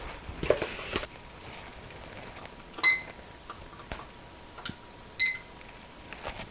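A digital timer gives two short, sharp electronic beeps a couple of seconds apart as it is set, amid quiet handling clicks and taps in a still room.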